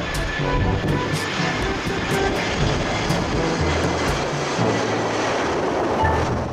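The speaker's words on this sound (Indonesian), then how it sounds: "lihat teman-teman, ini ada pesawat terbang." A steady, broad roar of an airplane passing overhead, loud and continuous, with no voices.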